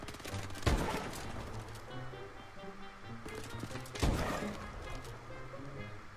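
Repeated bursts of gunfire from the Call of Duty: Advanced Warfare video game, with two sharp, loud volleys over a steady backdrop of game noise and music.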